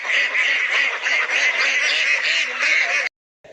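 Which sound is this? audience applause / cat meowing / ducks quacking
ducks quacking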